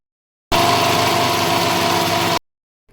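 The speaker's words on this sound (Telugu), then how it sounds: "మిక్సీ పట్టుకుందాం." A mixer grinder runs loud and close for about two seconds while grinding almonds, fennel seeds, cardamom and pepper, a dense steady motor whine that starts and stops abruptly.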